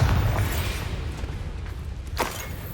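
A Confringo spell detonates in Hogwarts Legacy, opening with a heavy low boom that rumbles and fades, followed by a quieter sharp crackle and whoosh near the end; no speech is heard.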